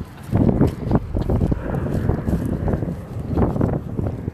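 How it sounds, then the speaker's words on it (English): Gusty wind buffets the microphone in a steady low rumble, rising and falling in loud, rough bursts. "Man, it's windy out here."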